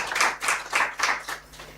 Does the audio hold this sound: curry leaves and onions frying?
no